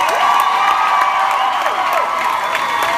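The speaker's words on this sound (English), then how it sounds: "Would you please give a huge round of applause for the very lovely and talented John Spence." A studio audience at a Tegan and Sara show cheers and applauds for John Spence, a loud, dense wall of whoops and shouts with clapping underneath, sustained without a break.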